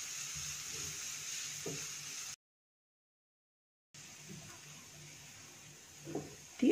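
Onions with a pinch of salt frying in a pan, a steady soft sizzle with faint stirring clicks, cut by a brief gap of silence before the hiss resumes.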